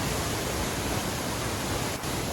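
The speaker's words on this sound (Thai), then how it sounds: "น้ำตกที่นี่นะคะ จะมีเพียงแค่ชั้นเดียวเท่านั้นค่ะ" A single-tier waterfall in a national park roars as a dense, steady rush of falling water, loud and unbroken throughout, with only a brief dip near the end and no voices.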